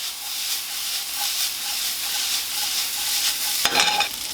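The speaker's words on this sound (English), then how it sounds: "the vegetables are almost done, so now I'm going in with some garlic. Toss that." Vegetables and garlic are tossed in a hot stir-fry pan, giving a steady close sizzle and hiss with soft rhythmic stirring. A sharper burst of sizzle and clatter comes near the end, with no voices.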